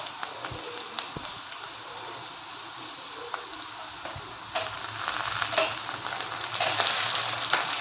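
Tomato goes into a pan of frying cabbage and chana dal, and a steady loud sizzle grows fuller and hissier toward the end, with occasional sharp clicks of a utensil.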